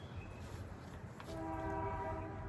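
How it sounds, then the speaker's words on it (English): A train passes with its horn sounding, a sustained multi-tone blast beginning partway through over the steady rumble of the rail cars. "Oh, it's a train."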